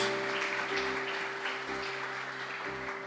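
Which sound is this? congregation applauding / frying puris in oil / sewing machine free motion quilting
congregation applauding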